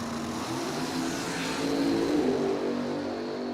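A supercharged dragster runs an eighth-mile drag strip at Cordova Dragway in a final round against a '56 Corvette, its engine a steady, loud, broadband roar that swells slightly midway through the run.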